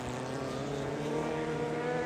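Formula F race cars at Sebring working through turn 7, a continuous layered engine roar from several open-wheel cars at a distance, steady and unbroken.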